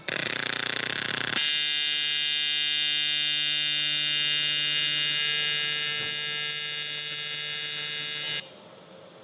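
A welder welding aluminum gives a steady, loud electrical hum with a buzzing harmonic tone, starting abruptly and running evenly for about seven seconds before cutting off.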